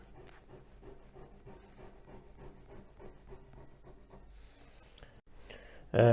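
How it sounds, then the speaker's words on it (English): Drawing on a board while explaining a noisy signal: a steady run of short scratchy strokes fills the stretch, then a brief pause and a sudden loud knock right at the end, with no talking. "I'm going to draw that here."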